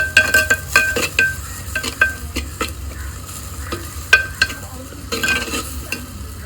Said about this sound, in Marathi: कांदा पण छानपैकी परतून झाला होता आणि मसालाही छानपैकी परतून घेऊया.